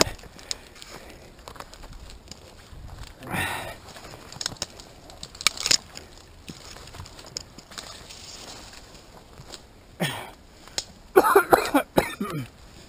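A few scattered coughs, close and abrupt, with a harsher cluster near the end, amid quiet outdoor ambience and occasional bird coos.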